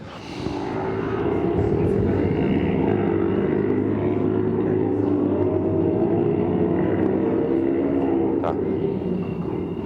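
A loud, continuous roar of more than 30 motorcycle engines revving together on a street, a dense mechanical drone that holds steady for several seconds.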